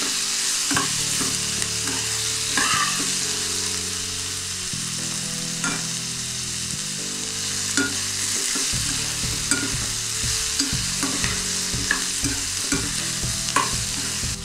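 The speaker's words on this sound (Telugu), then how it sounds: "కొంచెం బ్రౌన్ కలర్ వచ్చే వరకు వేయించుకుందాం. కలుపుతూ ఉండాలి, లేదంటే కింద అడుగంటుకుంటుంది." Soaked ingredients frying in a pan until browned, with a continuous sizzle throughout and repeated scraping and stirring strokes of a spoon against the pan bottom, close and fairly loud.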